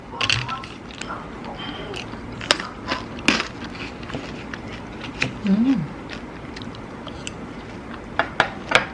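A hard frozen chocolate diet snack bitten and crunched close up, sharp cracks and crackles scattered irregularly among quieter chewing, with a brief vocal murmur partway through.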